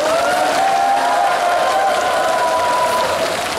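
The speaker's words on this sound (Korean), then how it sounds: "박수 한번 보내주세요." Festival crowd at the opening ceremony of the 2016 Muan lotus festival claps steadily as a female announcer is introduced, an even, sustained wash of applause, fairly loud, with a faint tonal hum running underneath.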